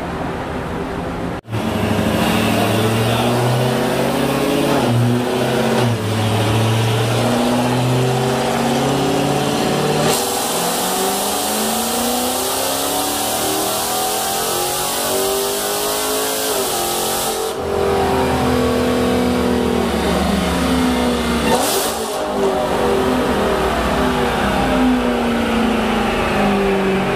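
A modded Ford GT500 or Dodge Charger Hellcat runs on a dyno in fifth gear, its engine roaring loudly and climbing in pitch through long sustained pulls, with brief drops between runs.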